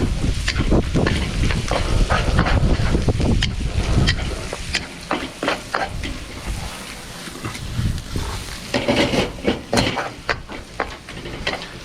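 Leeks sizzling in a hot pan with garlic and ginger, stirred with repeated scrapes and clatters over a steady frying hiss, loud and close, with no talk.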